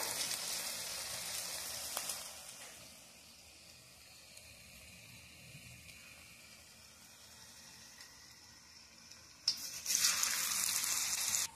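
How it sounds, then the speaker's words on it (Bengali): Chilli fritters deep-frying in hot oil make a soft, continuous sizzle and bubbling that swells into a louder burst of hissing near the end. "এই যে উল্টে উল্টে ভেজে নেব লাল লাল করে।"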